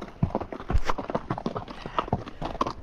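Horses walking on a dirt hiking trail, hooves clip-clopping in a steady uneven rhythm close by, with a faint snort now and then and no talking.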